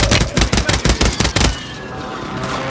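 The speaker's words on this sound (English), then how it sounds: "Sniper tower shooting at us." Sustained automatic gunfire from a sniper tower in Warzone 3, a loud dense burst of rapid shots lasting over a second before cutting off into a quieter background.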